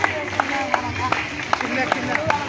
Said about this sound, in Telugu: అందరు గట్టిగా చప్పట్లు కొట్టాలి